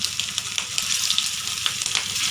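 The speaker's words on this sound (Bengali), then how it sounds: "তো কড়াইতে আমি তেল দিয়েছি, তেল গরম হয়ে গেছে, এখন এই কোপ্তাগুলো আস্তে আস্তে আমি দিয়ে দেব।" Fish egg koftas fry in hot oil in a wok, giving a close, continuous crackling sizzle with small popping bursts throughout.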